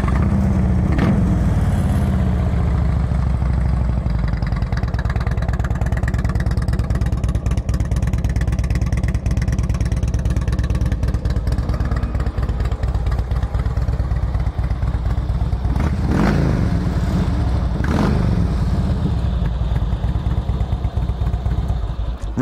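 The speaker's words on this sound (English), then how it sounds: "Let's give it a listen with those pythons." A Harley-Davidson Road King Classic FLHRCI with Python exhaust pipes runs loud and steady up close, with a couple of sharp revs rising and falling partway through.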